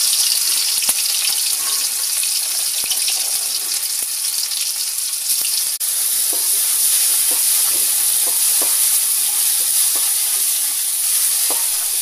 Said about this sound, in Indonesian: dan goreng bumbu yang sudah dihaluskan.